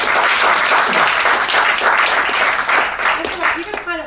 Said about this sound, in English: Give Louise a round of applause